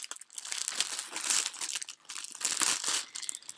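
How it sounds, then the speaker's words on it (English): Plastic packaging crinkles and rustles close up as it is torn open, an irregular run of crackly bursts with brief pauses between. "I'm so sorry for the crinkling."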